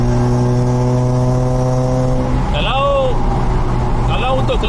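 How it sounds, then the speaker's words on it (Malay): Mazda RX-8 rotary engine hums steadily from inside the car, then the pitch drops and shifts, with short squeaky sounds over the engine noise. "Enjin dia lebih kepada untuk santai-santai, enjoy bunyi rotary."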